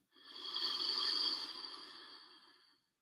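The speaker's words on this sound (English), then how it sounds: "And breathing all the way in." One long, deep inhalation during a guided breathing exercise, close and fairly soft, swelling and then tapering away over about three seconds with an airy, slightly raspy quality and no talking.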